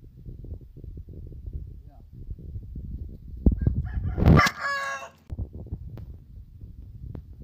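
A rooster lets out a single loud crow midway through, rising sharply above a low background murmur and shuffling that fills the rest of the moment.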